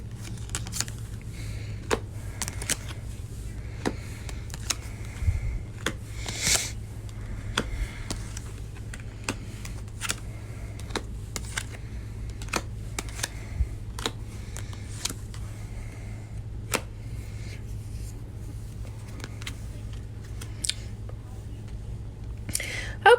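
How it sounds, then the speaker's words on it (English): New tarot cards are shuffled quietly and repeatedly, stiff and difficult to shuffle, soft riffles and taps over a low steady hum. "So they're a little difficult to shuffle because they're so new"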